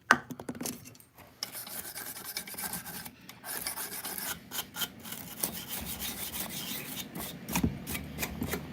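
Repeated rasping strokes of a file sharpening a chainsaw chain, uneven in rhythm with brief pauses, close up and fairly quiet, no talking.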